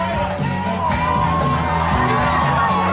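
Family and friends in a crowd cheer and whoop for a contestant at a mooncake eating competition, a loud, sustained mix of shouts and yells close by, with no clear talk over it.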